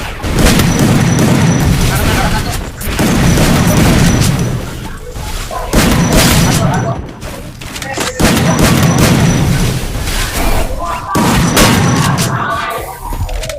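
Repeated loud booming gunfire and explosions from a video game played at an offline tournament, coming in long dense bursts with brief gaps, under excited talk between players.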